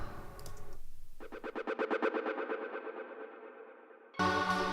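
A synth tone sweeps down and stutters through rhythmic delay echo repeats with reverb that fade, then a dense bright synth burst enters at the end.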